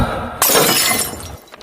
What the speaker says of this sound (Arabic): والله الكوبايه اتكسرت، الازازه اتكسرت